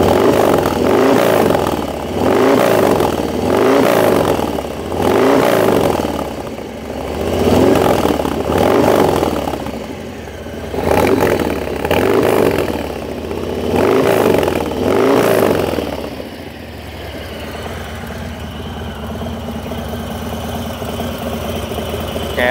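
A 2021 Harley-Davidson Low Rider S with the 114ci engine, nearly new, running loud and close with rhythmic revving swells every couple of seconds, then settling into a steadier idle near the end.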